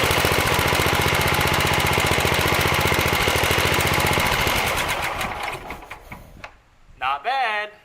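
The engine of a Sears Suburban garden tractor runs on choke with a loud, rapid, knocking chug that falters and dies away, followed by a person speaking.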